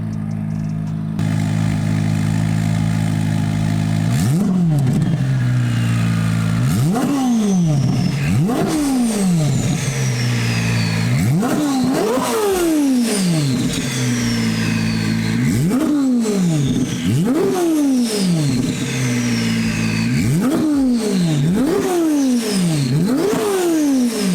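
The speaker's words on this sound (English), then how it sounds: "I'm gonna rev it up." A loud twin-turbo engine in a carbon fiber widebody hypercar revs repeatedly, each burst climbing in pitch then dropping back, in a steady rhythm of about a dozen revs, close up and alone.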